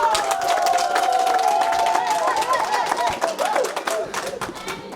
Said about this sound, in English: Salaries always get the biggest clap, don't they?